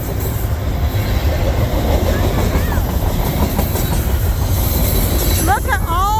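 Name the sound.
train rumbling along the Indian Creek rail line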